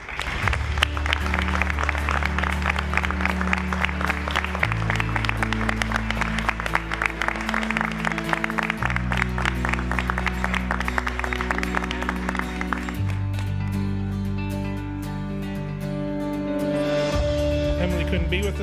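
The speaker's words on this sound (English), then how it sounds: "Please give her another round of applause." An audience applauds an award winner at a community college student awards ceremony, the clapping blending with loud music that has a steady, changing bass line and runs throughout.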